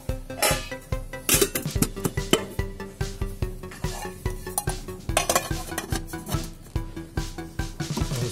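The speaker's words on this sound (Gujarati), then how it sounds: "સૂર્ય કુકરના ઢાંકણાને બંધ કરી અને 2 કલાક માટે આપણે મૂકી દઈશું એને." Metal containers of potato slices are set down inside a solar cooker and its lid shut, giving a run of close, sharp clanks and clinks in a steady rhythm with no talk.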